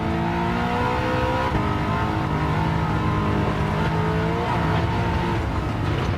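A race car engine in a Gran Turismo racing game revs hard through its gears, loud and constant, with repeated pitch climbs and drops at shifts and no speech over it.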